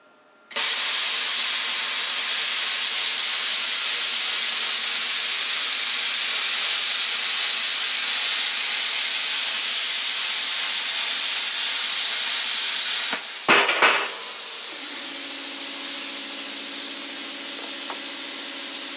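A YESWELDER CUT 55DS plasma cutter slices through stainless steel with a loud, steady roaring hiss for about thirteen seconds, then sputters and cuts out, leaving a quieter hum.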